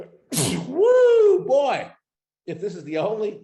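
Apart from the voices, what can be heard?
sneeze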